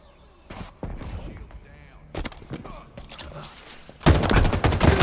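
A laser gun fires in a video game, with sharp zapping shots in separate bursts that become denser and louder toward the end.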